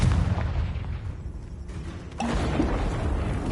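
A Confringo blasting curse goes off in Hogwarts Legacy on PS5, a loud booming burst with a rumbling low end that swells again into a second heavy blast partway through, alone without talk.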